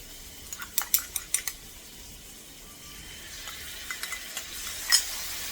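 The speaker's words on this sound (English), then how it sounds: "you can hear like a sizzle, the heat to make the oil more aroma" Light sizzling of food frying in oil in a pan while making pad thai, with scattered clinks and scraping of a utensil stirring; quiet, no voices.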